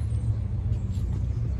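A Pontiac Firebird's engine pulls hard under acceleration, a steady loud low rumble that holds without a break and carries no talk.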